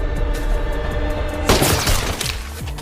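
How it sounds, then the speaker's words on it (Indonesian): A sniper rifle headshot in a war film, heard as a sharp, loud crack with a shattering burst at the midpoint, followed by scattered impacts over a steady low rumble of film score. "Untungnya Nick berhasil melakukan headshot kepada si kolonel dengan senjata snipernya."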